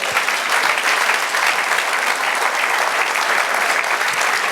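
A church congregation applauds during a Spanish-language sermon, dense and loud continuous clapping that holds evenly throughout, close and full.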